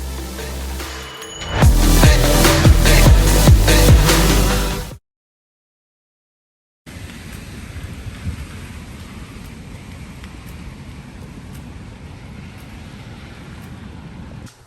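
Rain falls on a cold weekend in New York, a steady even hiss after a silent gap, preceded by a loud, dense burst of music.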